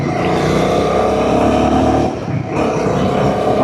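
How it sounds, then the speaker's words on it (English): A Royal Enfield Guerrilla 450 motorcycle engine revved hard up close, a loud continuous roar that dips briefly before surging again. "I just rev this machine like crazy."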